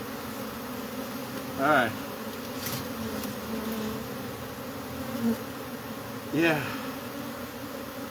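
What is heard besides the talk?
angry bees buzzing from hive in cable box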